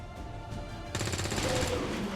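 Automatic gunfire from the turn-based tactics game XCOM 2: War of the Chosen, a rapid burst that starts abruptly partway through and rattles on loudly over low background game ambience.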